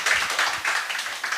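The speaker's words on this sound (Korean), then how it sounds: "다시 한번 박수 한번 좀 부탁드리겠습니다" Worshippers at a Sunday church service give a brief round of applause: a close, dense patter of many hands clapping for a second or so, with no talking over it.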